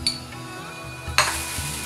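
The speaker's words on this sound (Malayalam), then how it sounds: "നന്നായിട്ട് ഇളക്കി കൊടുക്കുക." Beetroot pachadi stirred in a vessel after tempered mustard seeds are added, giving soft scraping and a couple of sharp clinks of a spoon against the pot, with a light sizzle beneath.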